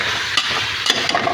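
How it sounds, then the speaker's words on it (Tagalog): A utensil stirs sautéed chicken in a pot of tinola, a steady scraping swish over a soft sizzle, with a couple of louder clanks against the pot. "haluin natin ang ating pinigisang manok"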